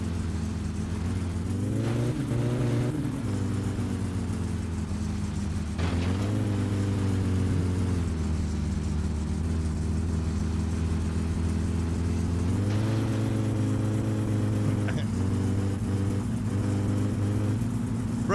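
A car with a broken muffler in the My Summer Car video game drives steadily with a loud, continuous low engine drone, the pitch dipping and rising with a few gear changes and revs.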